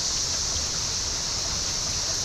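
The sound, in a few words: small waterfall at Burgess Falls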